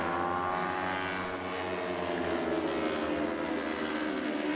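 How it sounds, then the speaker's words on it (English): Junior Cup racing motorcycles at a MotoAmerica round in Alabama give a loud, continuous engine drone with layered harmonic whine that holds steady throughout, with no voices over it. "Great sounds as Junior Cup bikes."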